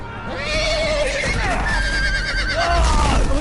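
Horses whinny and neigh in Telltale's Game of Thrones video game, close and loud, several calls sliding over a continuous rumble of hooves and game noise for the whole stretch.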